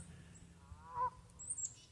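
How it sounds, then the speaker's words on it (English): One faint goose honk rings out in the middle, distant and alone against a quiet outdoor background, from geese sitting on a grassy bank beside water. "I've got geese that I'm looking at sitting on the bank"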